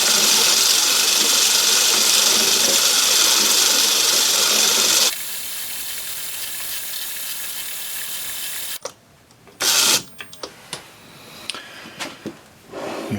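A metal lathe cuts a metric thread on an imperial machine, giving a steady loud broadband machining roar for about five seconds, then a quieter running hum, before intermittent mechanical clicks and clatter of handling and adjustment.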